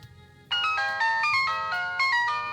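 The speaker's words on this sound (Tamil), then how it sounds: "இவன் எதுக்கு ஃபோன் பண்ணுறான்?" A mobile phone ringtone plays a bright, repeating electronic melody of quick tones, starting abruptly after a moment of low background hum and continuing steadily.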